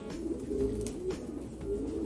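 Pigeons in a breeding loft cooing softly, a few low rolling coos repeating close by at a quiet level, with no talk over them.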